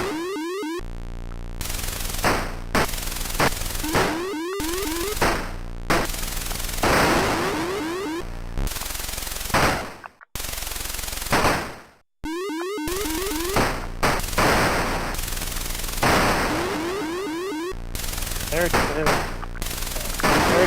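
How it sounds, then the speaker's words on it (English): Harsh explosion and popping effects from an Imagic game on the Atari 2600 fire in rapid, loud bursts, repeating almost without pause for about twenty seconds, with only brief gaps. "the explosion and sound effects remind me of combat for the 2600"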